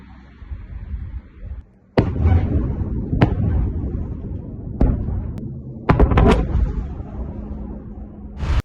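Repeated loud, sharp blasts from a drone strike on a warehouse crack out over a continuous low rumble, several booms spaced unevenly across the stretch, sounding large and distant.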